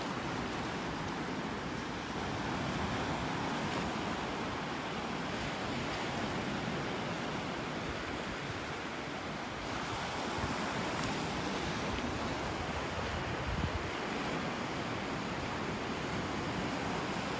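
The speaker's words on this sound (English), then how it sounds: "A few little waves." Small ocean waves break gently on a beach in North Naples, Florida, as the tide goes out, forming a continuous broadband wash of surf with soft swells and some wind, with no talking.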